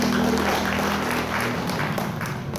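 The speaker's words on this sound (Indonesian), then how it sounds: "Tepuk tangan dulu Pak." Audience clapping at a community gathering in a Lampung village, a short burst of brisk, dense applause with some voices mixed in.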